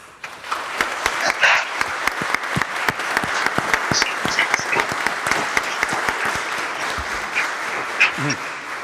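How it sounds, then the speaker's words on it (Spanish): Audience applause for newly sworn lawyers at a Supreme Court swearing-in ceremony, a steady wash of many hands clapping with sharp individual claps standing out, sustained and fairly loud throughout. "Aplaudamos vuestro logro."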